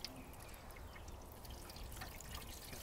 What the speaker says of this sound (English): This is the water tray, which initially we need to fill with some water